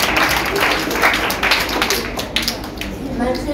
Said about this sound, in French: Acclamons très très fort.